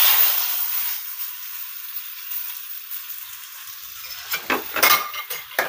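Hot chili tempering poured into kadhi in a pan, a steady hiss of sizzling followed by clinks and scrapes of stirring with a utensil near the end, close and moderately loud with no talking.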